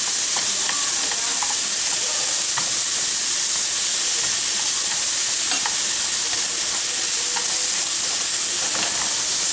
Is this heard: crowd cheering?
no